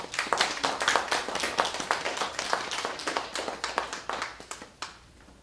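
A small group gives a round of applause at a workplace jobs meeting after a training session, with steady, fairly quiet clapping that tapers off after about five seconds.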